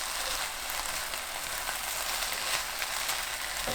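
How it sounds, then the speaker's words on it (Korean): Eggplant and anchovies stir-fry with chili and green onion over medium heat, a continuous close crackling sizzle that holds even and bright throughout with no voices. "1분 후 골고루 섞고 고추, 파 넣어 중불로 1분 볶습니다."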